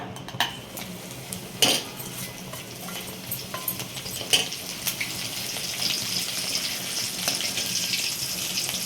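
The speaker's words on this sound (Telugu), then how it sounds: "దీంట్లోనే ఈ వెల్లుల్లి కూడా వేయించేసుకోవాలన్నమాట" Garlic frying in hot oil with curry leaves, a steady sizzle broken by sharp clinks and scrapes of a metal utensil against the pan, close and with no voices.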